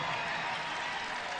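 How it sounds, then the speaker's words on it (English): Wichita State basketball fans at a 2012 MVC Tournament game against Indiana State clap together in a dense, steady burst of arena applause, brief and fairly loud with a crowd murmur behind it. "The Wichita State fans applaud the announcement of Carmichael's third foul."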